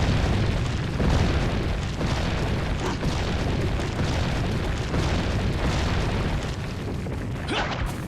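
A huge boulder rolls in Resident Evil 4, a continuous heavy rumble with dense low booming that stays loud and steady the whole time and swells slightly near the start.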